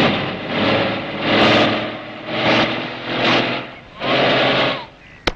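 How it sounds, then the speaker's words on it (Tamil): A vehicle engine revs repeatedly while standing still, rising and falling in about five loud surges, ending with a sharp click. "வண்டி நவரவே மாட்டேங்குது."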